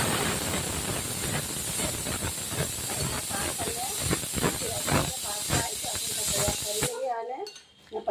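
Chana dal and dried red chillies hit a hot mustard-seed tempering for tamarind rice, giving a loud, continuous sizzle and crackle that cuts off abruptly near the end.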